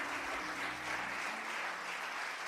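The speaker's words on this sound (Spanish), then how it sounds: "¿qué les parece si le damos un fuerte aplauso de bienvenida?" A church congregation gives a warm welcome applause, dense and even clapping that carries on steadily throughout and sounds somewhat distant and soft.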